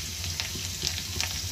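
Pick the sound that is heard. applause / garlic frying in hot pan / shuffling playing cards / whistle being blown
garlic frying in hot pan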